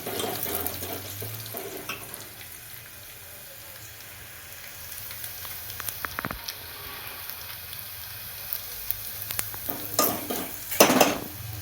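Onions frying in a pan toward golden brown give a soft, continuous sizzle, broken by scattered spoon scrapes and clinks against the pot that grow louder and busier toward the end; no one speaks.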